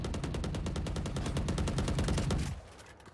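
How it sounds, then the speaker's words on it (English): Rapid automatic gunfire in the tactical shooter Valorant, a dense, loud rhythmic stream of shots that runs for about two and a half seconds and then cuts off abruptly, leaving only faint background. "I moved with those shots there"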